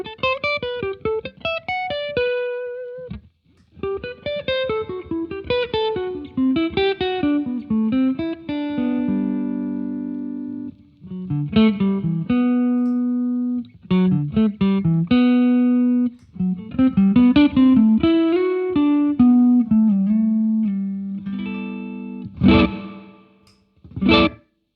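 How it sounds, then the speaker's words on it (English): Electric guitar played through a medium reverb pedal that switches on and off, so picked notes and chords alternate between ringing tails and dry, abrupt stops, with no talking. "I'll switch the reverb on and off a bit and see if you can hear what I mean."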